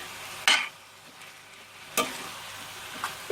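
Onions and peppers frying in a pan, a steady soft sizzle broken by a few sharp clatters of stirring, close and without any talk.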